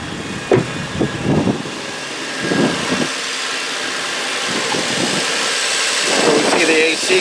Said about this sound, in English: There's the AC going.